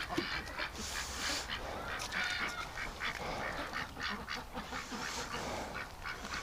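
A flock of wintering ducks and geese quacks and honks continuously, many overlapping calls nearby with no talking.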